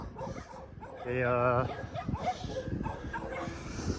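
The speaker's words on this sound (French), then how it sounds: "encore une attaque de chien" A dog on a roadside barks and yelps at a cyclist on a ride from Cúcuta to Abrego in Colombia, a short loud burst of barking and whimpering heard over the rider talking.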